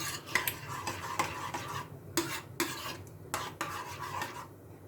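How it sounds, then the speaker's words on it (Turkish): A spoon stirs cacık, a yogurt dish, in a bowl, giving repeated scraping and clinking strokes in an uneven rhythm, close and fairly quiet, with no talk. "Güzelce karıştırdım."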